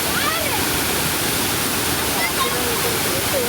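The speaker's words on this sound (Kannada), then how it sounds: "ದುಮ್ಮಿಕ್ಕಿ ಹರಿಯುತ್ತಿರುವ ಜಲಪಾತ." The Tirthakere waterfall near Sringeri, swollen by torrential monsoon rain, gives a dense, constant roar of cascading water that fills the whole stretch without letup.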